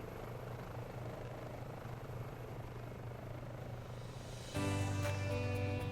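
Twin engines of an H145 helicopter shutting down in Microsoft Flight Simulator 2020: a steady turbine and rotor drone that shifts near the end into a louder, sharper tonal hum, with no talking.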